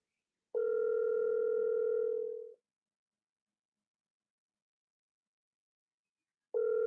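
Unanswered outgoing phone call to Yemen, a steady ringback tone of about two seconds followed by a long silence, then the next ring starting, with no talk.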